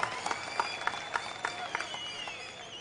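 Scattered clapping from a crowd at a political public meeting in Trichy, Tamil Nadu, heard as uneven bursts of hand claps, fairly faint and distant, with a steady background hum.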